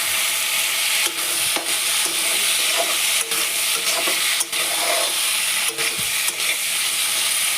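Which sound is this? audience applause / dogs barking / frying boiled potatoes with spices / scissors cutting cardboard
frying boiled potatoes with spices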